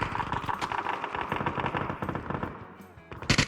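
Automatic gunfire in the video game PUBG rattles in rapid, dense bursts for about two and a half seconds, then pauses before a final short, loud volley.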